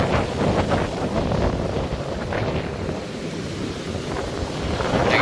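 Sea waves wash and break at the shore of Cox's Bazar, mixed with loud, steady gusting wind buffeting the microphone, with no voices.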